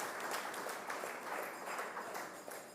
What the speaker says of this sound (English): And so give them a round of applause for keeping a wonderful town hall meeting.